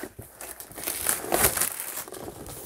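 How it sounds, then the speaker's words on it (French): Shrink-wrap plastic is torn and peeled off a Castles of Burgundy board game box, a close, continuous crinkling and crackling that swells in the middle and tapers off. "Je vais la déballer immédiatement."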